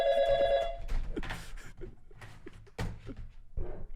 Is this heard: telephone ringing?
yes